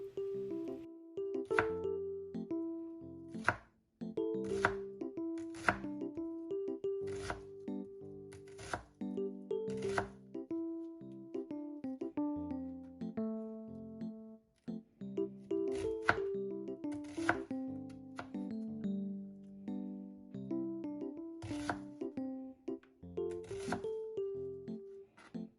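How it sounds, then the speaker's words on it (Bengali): A knife chops onion finely on a kitchen board, with sharp, fairly regular taps about once a second, layered over steady background music throughout. "এই পেঁয়াজগুলোকে একেবারে মিহি করে কেটে নিয়েছি।"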